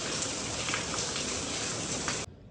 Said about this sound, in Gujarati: કેવો વરસાદ ચાલુ થઈ ગયો